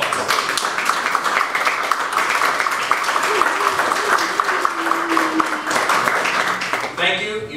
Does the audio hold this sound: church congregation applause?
yes